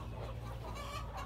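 Chickens cluck on a small urban poultry farm holding about 1,300 to 1,400 birds, a steady close murmur of fowl voices with low hum beneath.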